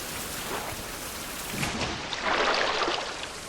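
Rain pours steadily in the survival video game Survival: Fountain of Youth, a continuous hiss that swells louder partway through, with a thunder-like rumble and no voices.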